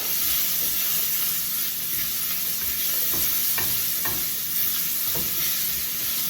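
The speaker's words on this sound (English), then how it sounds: "4 thinly sliced garlic cloves. Those all tossed in the seasoned oil." Thinly sliced garlic, with onion and grated ginger, sizzles steadily in seasoned oil while being stirred, the loud frying hiss broken by several sharp scraping strokes, with no voices.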